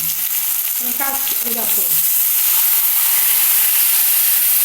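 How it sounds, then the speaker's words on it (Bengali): Water poured into a hot pan holding a fried egg sets off a loud, steady hissing sizzle that fills the whole stretch, with a few clinks early on. "ডিমটাও ভাজা হয়ে গেল এবার আমি কি করছি একটু জল দিয়ে দিচ্ছি"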